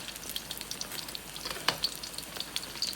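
Cauliflower fritters (gobi pakora) in batter frying in oil over medium-low heat, a steady close crackle and sizzle with scattered bright pops and one sharper burst, no talking.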